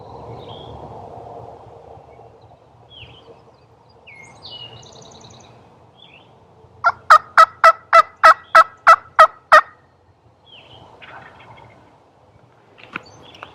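A wild turkey gobbles far off in the countryside at daybreak, a rapid burst of about eight loud, rattling notes after quiet wind and ambient noise, with faint bird calls nearby.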